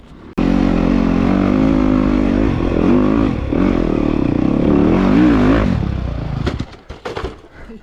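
A 450 dirt bike engine revs hard and loud up close on a mountain trail, holding a steady high-power roar for several seconds with pitch wobbling up and down before dropping off into clattering and scraping.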